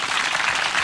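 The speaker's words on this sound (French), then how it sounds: "je vais vous demander là d'applaudir Madame Portier." A short burst of dense audience applause for Madame Portier at a cognac event, steady and loud throughout with no speech over it.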